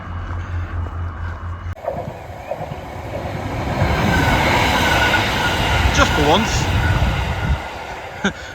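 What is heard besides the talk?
train passing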